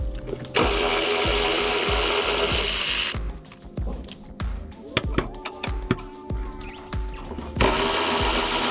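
Ratchet socket wrench turned by hand during an evap delete on a B5 S4, with repeated quick ratcheting clicks between bursts of a louder power tool, close and fairly loud; a person talks nearby.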